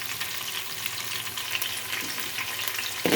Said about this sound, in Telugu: ఉల్లిపాయ పచ్చిమిర్చి వేసేసి కలుపుకుంటున్నాను ఫ్రెండ్స్